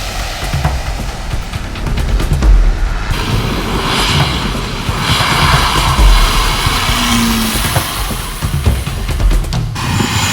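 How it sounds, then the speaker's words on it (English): Loud, steady roar of landing jet aircraft nearby, a broad rumbling wash that swells and fades as planes pass close overhead. "Watching these planes land up close was weirdly exhilarating."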